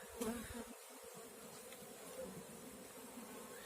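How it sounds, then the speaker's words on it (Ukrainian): Honey bees buzzing close by, a steady droning hum with individual bees passing near, no voices. "є бджоли з пилком"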